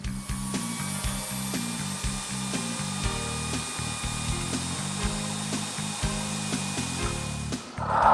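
A power mixer churns two-part Herculan UN 700 adhesive for a tennis or pickleball court installation, giving a close, steady mechanical whirr with a rapid rattling, ratchet-like pulse and a brief louder knock at the end.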